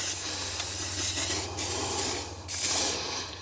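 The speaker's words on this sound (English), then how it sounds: "I'm just going to give this a bit of a degrease with some GT85" GT85 spray degreaser hisses from an aerosol can onto car parts in a few short bursts, the sharp spray sounds starting and stopping close by.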